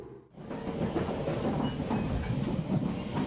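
The Super Oki No. 1 limited express runs steadily past, a continuous rumbling rush of wheels and rails with a faint hiss, fairly close and sustained.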